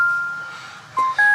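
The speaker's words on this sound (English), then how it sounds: "Turn the ignition on." A Jeep Renegade's ignition is switched on, giving steady electronic chime tones from the dash that start alone, break off, then return louder near the end, with no engine noise.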